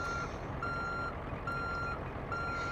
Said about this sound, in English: That backup noise you're hearing is coming from Jay's truck.